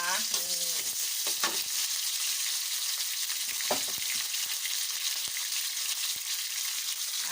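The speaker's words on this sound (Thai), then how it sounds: "เดี๋ยวผัดผักรวมใส่หมูสามชั้นนะคะ" Mixed vegetables with pork belly stir-fried in a pan, a loud steady sizzle with stirring scrapes and clatter throughout, no talking.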